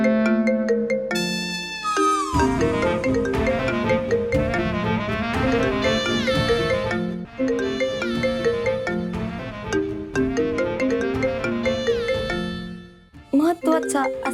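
A phone ringtone plays a bright, repeating electronic melody, loud and continuous for about thirteen seconds before cutting off, followed by a short burst of sound at the very end.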